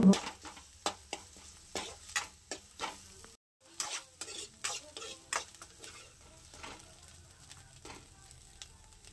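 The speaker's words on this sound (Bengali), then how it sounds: "এখন আমি কড়াইতে সব উপকরণগুলো খুব সুন্দরভাবে নেড়ে চেড়ে ভেজে নেব যতক্ষণটা ডিমটা সুন্দরভাবে ফ্রাই না হচ্ছে।" A spatula stirs momo filling with egg as it fries in a wok, producing a quiet, irregular series of sharp scrapes and clicks over a low sizzle, with a brief gap partway through.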